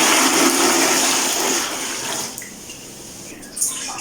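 Rice-washing water gushes loudly into a bucket for a couple of seconds, then tapers off into quieter trickling and splashes.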